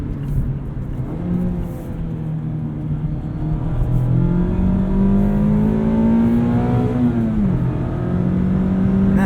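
A 2019 Mazda MX-5 Miata RF Club engine revs up steadily, its pitch climbing high and holding before dropping briefly and rising again, loud and close with no talking.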